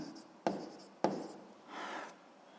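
Pen notes are written during a physics lesson: two sharp taps as the pen meets the surface, then a short soft scratching stroke, close and quiet.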